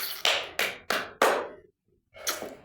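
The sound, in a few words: audience clapping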